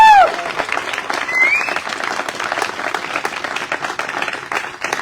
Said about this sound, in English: Can I have one more round of applause for these wonderful musicians?